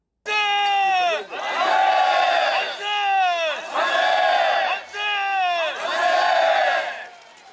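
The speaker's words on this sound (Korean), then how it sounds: "아운의 장터에서 울려 퍼졌던 그날의 함성을 재현하기 위해 많은 시민들이 모였습니다." A large crowd of citizens at a March 1st independence commemoration bonfire festival at a market site in Cheonan shouts in unison, four long, loud chanted cries separated by brief pauses, heard close.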